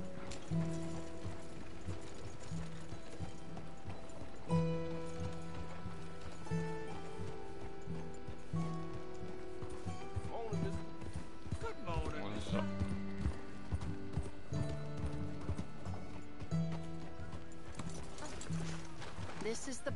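Horse hooves clip-clop through a PS4 cowboy video game, a steady rhythmic trot mixed with creaking and mechanical game sounds under continuous background music and character voices.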